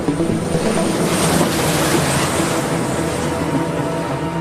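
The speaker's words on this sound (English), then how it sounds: "The surveillance plane's second landing is successful." A steady, loud drone from a P-3 propeller surveillance aircraft landing, with a dense broadband rumble and a faint high whine, unchanging throughout.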